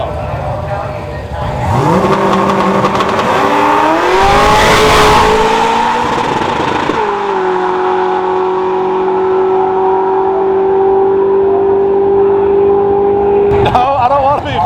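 A 900hp 1969 Camaro making a drag racing pass: a loud engine revs hard, with rising pitch through the gears, then holds a steady high drone near the microphone for several seconds before cutting off abruptly.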